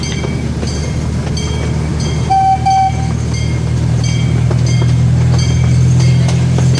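A zoo train rumbles steadily along its rails, a low continuous drone with faint clicking and a brief high tone partway through.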